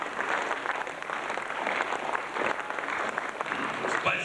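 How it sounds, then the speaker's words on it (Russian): A concert audience applauds a performer: continuous, fairly loud crowd clapping that stays even and dense throughout, with no clear voice over it. "Аплодисменты, пожалуйста."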